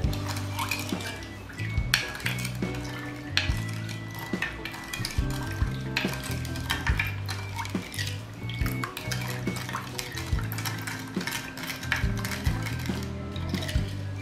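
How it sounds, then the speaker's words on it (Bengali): A spoon stirs lemon juice ingredients and sugar into about a cup of water, making repeated clinks and scrapes against the container in a steady, close rhythm with no talking. "1 কাপের মতো পানি নিয়ে আমি সব উপকরণগুলো খুব ভালো করে মিশিয়ে নেব।"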